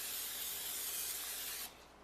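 A steady hiss of aerosol cooking spray onto a pan, close and continuous for under two seconds, then cutting off.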